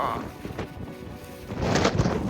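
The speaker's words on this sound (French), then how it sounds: "J'ai jamais vu un orage pareil." Rumbling thunder from a violent thunderstorm with hail rolls over gusting wind and rain noise buffeting the microphone, growing louder toward the end.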